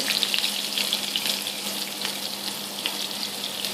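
Battered fish frying in hot oil gives a steady, close broadband sizzle that carries without a break, with faint clinks and water-like hiss layered over it.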